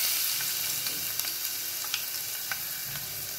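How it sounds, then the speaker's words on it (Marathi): Curry leaves and garlic sizzle in hot oil in a pot, tempering for a homestyle dal: a steady close hiss broken by sharp crackles and pops, with no talking. "आता आपण टोपामध्ये अगोदर आपण आता कढीपत्ता टाकणार आहोत"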